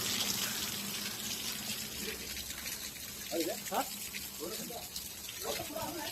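Water flows and splashes steadily into a small cold pool inside a rock-cut cave, a continuous gushing wash with a few faint voices in the background.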